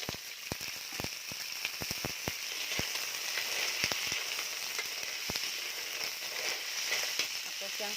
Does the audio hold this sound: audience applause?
no